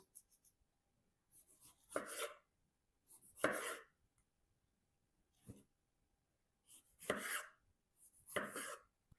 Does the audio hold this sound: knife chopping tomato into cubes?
yes